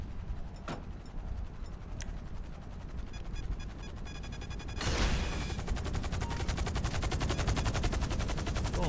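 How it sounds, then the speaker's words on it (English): Rapid automatic gunfire fires at a Cargobob helicopter in GTA V, dense continuous bursts with a sharp louder blast near the middle, then sustained rattling fire, loud and close with no talk. "Let's see if I can shoot this cargo bob down."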